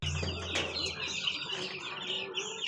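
Five-day-old broiler chicks peep and cheep in a brooding pen, a close, busy chatter of overlapping high chirps over a low background hum.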